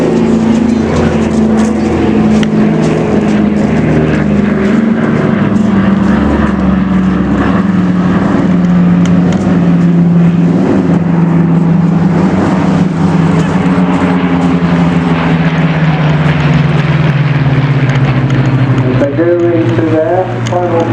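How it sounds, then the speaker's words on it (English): Spitfire and Dakota propeller aircraft of the Battle of Britain Memorial Flight fly past at an air display, a loud continuous engine drone that slowly falls in pitch as they pass. "coming in from the right to Dakota, to take over the skies as the Spitfires pass alongside."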